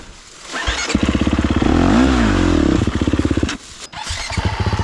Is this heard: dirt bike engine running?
yes